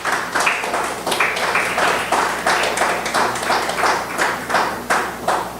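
A church congregation claps in a steady rhythmic beat, loud and close, filling a Spanish-language worship service with repeated applause.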